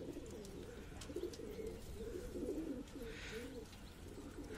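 Pigeons coo in low, soft, rolling calls on a rooftop, repeated over a faint background hiss, fairly close by.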